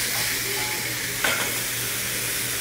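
Shrimp frying in a very hot, thick aluminium pan, a steady broadband sizzle with a continuous hiss and a brief stirring clatter midway, close and without talk.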